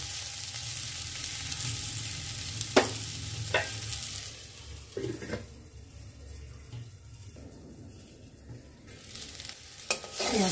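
Spring onion stalks with cauliflower frying in a pan, a soft sizzle with clinks and scrapes of a spatula stirring, quieter in the middle and rising again toward the end.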